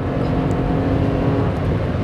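A Toyota Camry 3.5 pushes hard at about 140 on a highway, a loud, steady roar of engine and rushing road noise from inside the cabin with no break.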